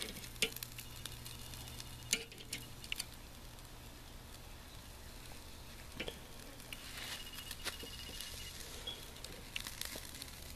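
Food frying in a pan, a faint steady sizzle with sharp scrapes and taps as pieces are turned over now and then, no talking.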